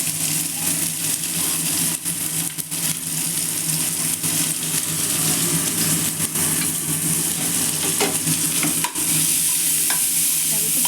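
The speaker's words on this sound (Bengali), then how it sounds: "মানে অল্প একটু ভাজা ভাজা মতো করে নেবে আর কি।" Spinach and paneer fry lightly in oil with salt for palak paneer, giving a loud continuous sizzle with frequent spatula scrapes and stirring clatter throughout.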